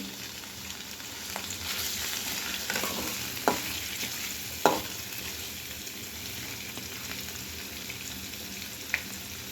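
Steady oil sizzle of paneer frying in a kadai, close and continuous, with a few sharp clinks of a utensil against the pan.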